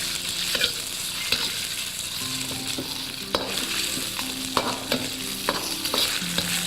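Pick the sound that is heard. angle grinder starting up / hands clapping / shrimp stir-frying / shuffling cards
shrimp stir-frying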